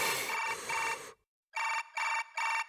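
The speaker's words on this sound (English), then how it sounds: "The sound was from my new smartphone." A new smartphone rings in the visual novel game Chaos;Child, sounding a bright electronic ringtone in short bursts with a silent gap, clear and alone.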